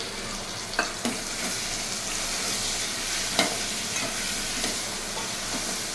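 Prawns sizzling steadily in a pan with green chillies in a Telugu prawn curry, a continuous broadband frying hiss with a few brief stirring clicks, close and moderately loud, no talking.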